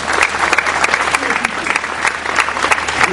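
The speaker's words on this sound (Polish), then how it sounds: "Myślę, że całej trójce animatorów włocławskich kultury należą się gorące brawa." Warm applause from the audience at a sung-poetry festival final in Włocławek, dense, lively clapping with sharp individual claps standing out, steady throughout.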